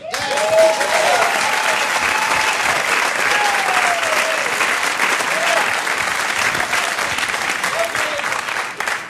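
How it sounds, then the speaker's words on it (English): Warm audience applause welcoming a comedian to the stage, sustained dense clapping from a crowd filling the room, loud and steady, with a few brief voices or whoops rising over it early on. "Would you welcome with your warm applause for Mr. Dave Burleigh?"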